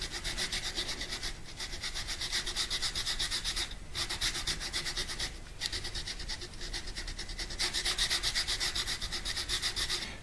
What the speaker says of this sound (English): I also am going to be sanding the pocket side of things, the mortise side of things